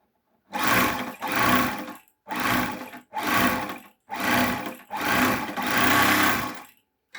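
A three-thread overlock machine runs in seven short bursts of steady whirring, each about half a second to a second long and separated by brief pauses, loud and close with no voice.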